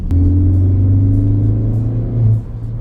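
A Ford Focus 3 ST engine drones loud and close from inside the car while driving, a deep steady rumble with a sustained low hum that drops off near the end.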